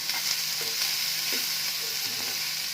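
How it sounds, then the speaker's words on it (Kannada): Vegetables fry and are stirred in a pan, a loud, steady sizzle with repeated light scraping strokes and no voices. "ನೋಡಿ ಫ್ರೈ ಆಗ್ತಾ ಇದೆ."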